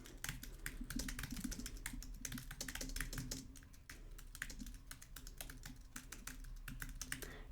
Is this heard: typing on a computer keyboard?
yes